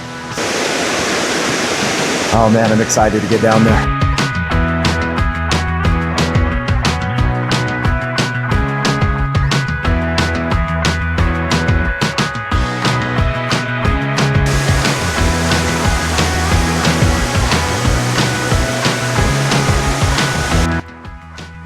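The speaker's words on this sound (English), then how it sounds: "The natural rock overhang keeps you mostly dry while you walk behind thousands of gallons of water, crashing down just feet away." Dry Falls waterfall in North Carolina pours thousands of gallons of water down past a rock overhang, a loud steady roar filling the whole stretch after a brief quieter opening, with someone speaking briefly near the start.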